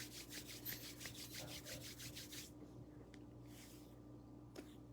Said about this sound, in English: Let's rub our hands together, closing the circle, coming back to yourself.